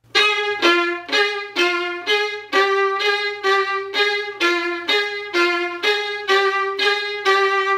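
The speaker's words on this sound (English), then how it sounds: "When you're playing staccato, you want a really nice popping sound." Violin playing a run of short, detached staccato notes with a crisp popping attack, about twelve evenly spaced strokes, close and bright, with no talking.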